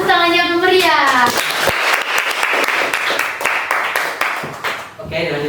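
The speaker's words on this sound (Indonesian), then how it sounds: "Berikan tepuk tangan yang meriah." Audience applause at a school talk-show event, a lively burst of steady hand-clapping lasting several seconds that stands alone between stretches of speech before and after.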